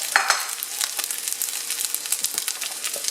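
Pieces of ham sizzle steadily in a hot pan for pork fried rice, with scraping stir strokes crackling close and loud throughout.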